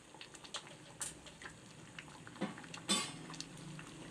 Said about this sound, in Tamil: இப்போ நல்லா இதை கிளறி விட்டுக்கலாம்.